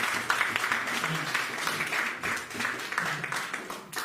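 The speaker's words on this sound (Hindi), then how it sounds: "ताली बजाते हुए उनका हम स्वागत करेंगे" A church audience applauds to welcome a preacher to the stage for a rebuttal, a steady, dense clapping that carries across the room for the full stretch with a few louder swells.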